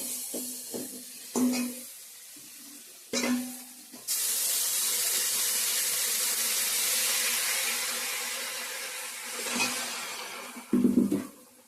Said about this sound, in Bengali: জল অ্যাড করে দিয়ে দেবো